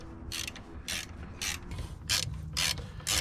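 A ratchet on a long extension works a starter bolt loose on a 2011 Lincoln MKX, giving quick bursts of close, crisp clicking repeated several times in a steady rhythm, with no talking.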